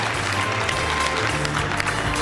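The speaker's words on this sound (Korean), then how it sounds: "박수로 환영해 주시기 바랍니다." Audience applause welcoming a guest, the Japanese consul general in Busan, at the 2013 Seomyeon Medical Street festival in Busan, a steady wash of clapping over a low, continuous hum with a murmur of voices.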